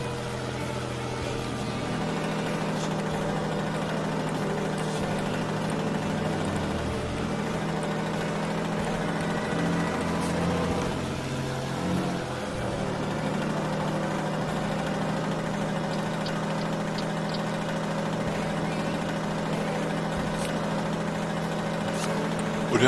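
An older truck engine idles in the American Truck Simulator game with a steady, rumbling, slightly rattly drone that stays even and unbroken for over twenty seconds.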